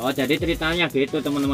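A grey pigeon coos in soft, rhythmic low notes close by while a person speaks over it.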